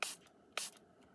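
Two short bursts of ink sprayed from a bottle onto paper for a faux tea-dye effect, each a quick hissy spritz separated by a pause, close and fairly faint.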